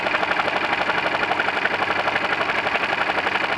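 An outboard boat engine runs steadily at idle, a continuous mid-range mechanical drone with a fast, even rhythmic chatter, close and loud throughout, with no voices.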